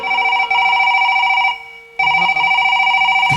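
A telephone ringing loudly on a live stage show: a sustained electronic ringtone with a steady pulsing pattern, briefly breaking off before resuming, mostly alone with faint background noise.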